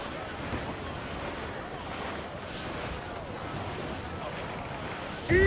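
Wind and surging surf roar steadily around a sailing ship riding a squall in Assassin's Creed IV Black Flag, a dense continuous wash of water and gusts.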